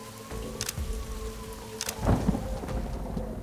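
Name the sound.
heavy rain and thunderstorm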